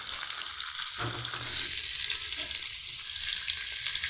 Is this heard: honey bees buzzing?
no